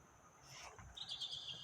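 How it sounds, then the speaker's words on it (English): Small bird chirping and tweeting inside the overgrown gym of an abandoned children's psychiatric hospital, a faint, thin call that grows into a brighter series of quick chirps, with no one talking. "there's a little birdie flying around"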